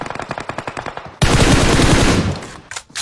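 PUBG Mobile gunfire: a run of rapid evenly spaced automatic shots, then a loud dense burst of sustained firing that fades away, followed by a couple of faint distant shots.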